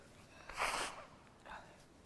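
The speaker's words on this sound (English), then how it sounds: "I have to blow my nose." A short forceful nose blow, then a second softer blow a moment later, close by in a quiet room.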